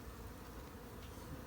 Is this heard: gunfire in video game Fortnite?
no